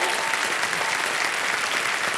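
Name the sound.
audience applause on game show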